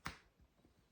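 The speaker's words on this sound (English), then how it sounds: "snapping my fingers whenever a thought comes up" A single sharp finger snap rings out close and crisp, followed by a quiet room and a faint soft rustle.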